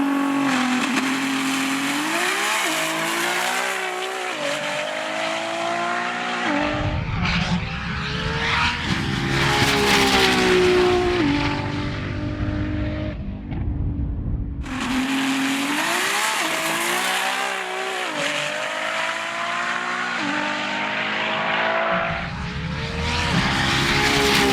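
A loud Nissan R35 GT-R drag racing engine roars and revs hard on a runway launch through rising gear pulls, drops off briefly, then screams up through the revs again.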